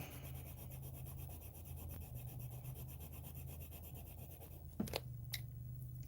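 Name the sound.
colored pencil burnishing and smoothing on paper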